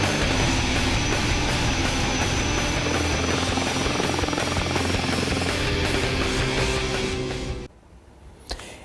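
An Indian Air Force light combat helicopter (LCH) flies close by with a loud, steady rotor thump and turbine whine, continuous for most of the clip before cutting off abruptly near the end.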